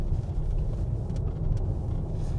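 A 2023 Mitsubishi Outlander PHEV at full throttle gives off a steady, even low rumble that holds for a couple of seconds, heard from the cabin with no one talking.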